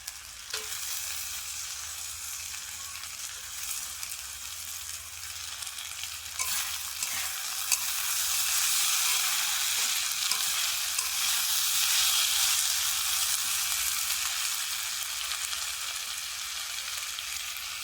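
Tomato pieces go into a pan of frying potatoes for a Bengali fish and potato curry, giving a steady, loud sizzle with stirring that swells after a brief splash and holds throughout, with no talking.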